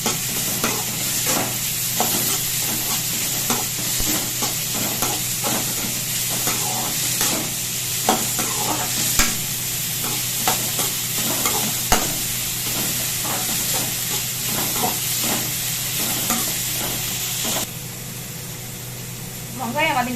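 Onions sauté in a pan for mutton uppu curry, a constant loud sizzle with regular scraping stirs of a spatula throughout, close to the pan and easing slightly near the end, with a voice talking over it.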